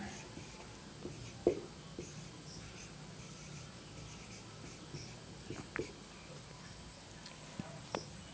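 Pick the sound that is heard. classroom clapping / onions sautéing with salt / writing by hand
writing by hand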